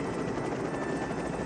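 Helicopter from the action film Lethal Weapon, a steady loud rotor and engine roar that holds without letup, with no voices over it.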